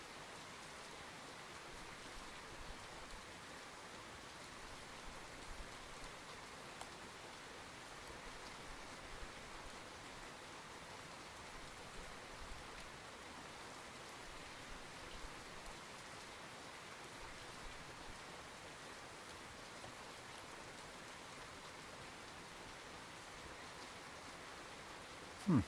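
Steady, even rainfall on a lake in the fishing video game Russian Fishing 4 hisses as a soft, unbroken wash for the whole stretch, with no pauses.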